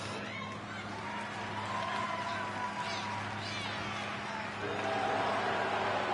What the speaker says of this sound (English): This crowd in Tulsa, Oklahoma is booing Rajax out of the building.